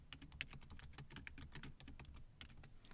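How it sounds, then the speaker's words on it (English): Fast typing on a computer keyboard while filling in copyright details: a quiet, dense patter of key clicks at an irregular rhythm that continues throughout, close up with no talking. "So I'm going to get down to copyright and I'll just start typing. So I'll type my name."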